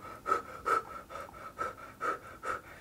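A voice imitates heavy breathing, about six rhythmic panting gasps in a steady pattern, close and fairly loud, alone without speech.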